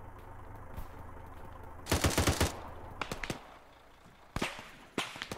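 Gunfire in the military shooter Arma 3 during a jungle assault: scattered cracking shots, a quick cluster of several reports, then isolated distant-sounding shots against a low ambient background.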